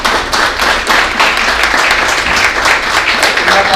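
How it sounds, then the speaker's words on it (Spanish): A church congregation applauds during a Spanish-language sermon, with dense, steady clapping from many hands that stays loud and close throughout, without pause or break. "¿Cuánto le dan un aplauso al Señor por eso?"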